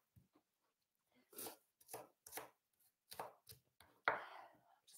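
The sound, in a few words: knife chopping food on a board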